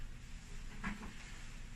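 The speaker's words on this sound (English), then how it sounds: "Turn the unit off, open the door" A Flight Clave16 autoclave door is opened during end-of-day maintenance, giving a single brief latch click and clunk over a steady background hum.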